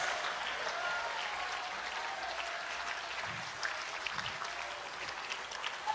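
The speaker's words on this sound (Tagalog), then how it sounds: "yung palakpak na malakas, mga kapatid." A church congregation claps loudly for God during a worship service, sustained dense applause from many hands filling the room for several seconds without a break.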